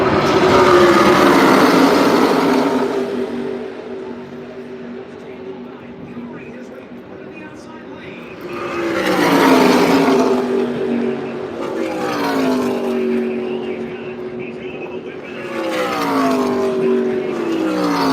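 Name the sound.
ARCA race cars racing side by side to the line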